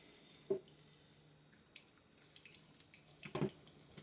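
Tap water runs faintly as soap is rinsed out of Bratz doll hair, a soft trickling stream punctuated by two brief knocks against the sink.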